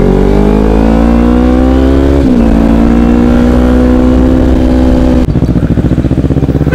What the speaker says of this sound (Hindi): ये मीठी मीठी बुलेट जैसी साउंड आ रही है